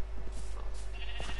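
Minecraft sheep bleating in the video game: short, wavering bleats repeat close up over a steady low hum, with no talking.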